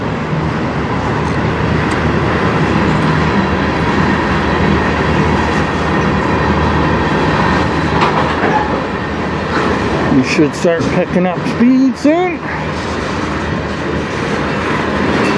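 A CN manifest freight train hauled by CN 3100 and CN 3310 locomotives rolls past on track 2 of the Strathroy Subdivision, a loud continuous rumble with rail clatter as someone talks nearby.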